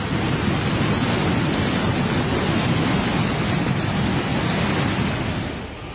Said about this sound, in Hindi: नदी नाले उफान पर आ गए